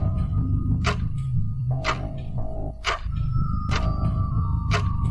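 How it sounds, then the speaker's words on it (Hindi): A clock ticks in a quiet house at night, sharp clicks about once a second standing out clearly over a low, steady hum. "पूरे घर के सन्नाटे को सिर्फ एक ही चीज़ तोड़ रही थी और वो थी"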